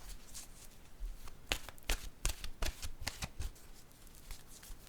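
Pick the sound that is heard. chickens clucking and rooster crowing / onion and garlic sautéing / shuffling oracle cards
shuffling oracle cards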